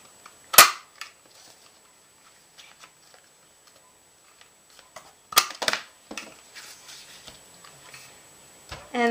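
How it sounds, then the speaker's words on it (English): A corner chomper punch rounding the corners of a handmade card snaps in sharp, isolated clicks, one crisp crunch early and a cluster later, amid quiet handling rustles. "I'm going to round the corners using my corner chomper here."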